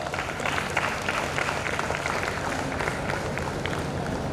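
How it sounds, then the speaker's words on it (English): Steady applause from an audience at a Navfest festival event, moderately loud and continuous throughout, with some crowd noise mixed in. "I urge you all to give yourselves and your team leaders a well-deserved round of applause."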